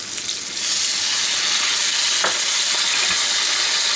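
A pan of apples with sugar and butter hisses after water is poured in, the sizzle swelling up after a quieter first half-second and then holding loud and steady, with faint stirring clicks.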